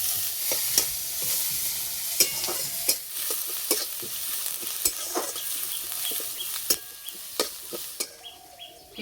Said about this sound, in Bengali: পেঁয়াজ হালকা করে ভেজে নিয়েছি।